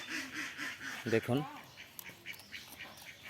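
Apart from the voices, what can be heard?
ducks quacking by a pond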